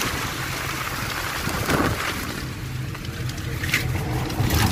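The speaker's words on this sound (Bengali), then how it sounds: "বাইরে বৃষ্টি অনেক বেড়ে যাচ্ছে।" Heavy rain pours during a crossing of the Meghna bridge, a dense continuous hiss of rain with a low rumble of vehicle or engine noise, with no one speaking.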